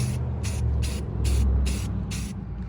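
An aerosol can of spray paint hisses onto car brake calipers in six short, evenly spaced bursts, each about a quarter second long, close and crisp over a low background rumble.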